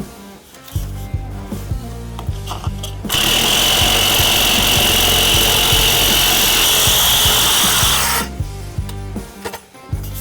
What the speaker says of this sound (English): That way you could hear that saw.